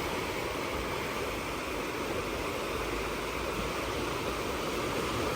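Swollen Sutlej river floodwater flows along an embankment near Nawanshahr, producing a steady, even rushing roar with no distinct breaks and no voices.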